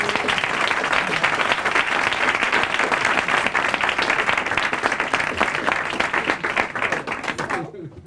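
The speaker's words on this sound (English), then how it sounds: "give Glenn a big round of applause." A live audience breaks into a big round of applause, steady crowded clapping filling the room for several seconds, with some voices underneath, before it quickly dies away at the end.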